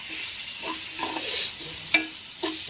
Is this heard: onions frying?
yes